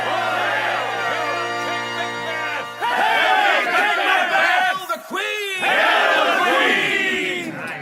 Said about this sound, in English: Macbeth's loyal followers cheer him and his queen